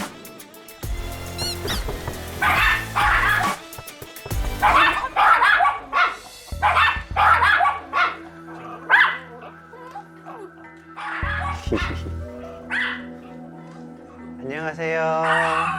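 A dog on a Korean family variety show barks in repeated bursts close to the microphone, with pauses between volleys and household background noise.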